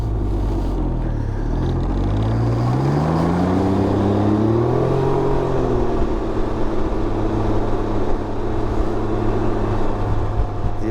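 A Can-Am Ryker three-wheeled motorcycle accelerates on a rally test ride, its engine pitch sweeping up through the gears and then settling into a loud, steady drone under constant wind rush.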